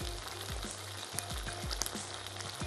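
Steady oil sizzling with chili garlic sauce in a pan, with soft scraping stirs at a regular pulse, close up and fairly quiet, with no talking.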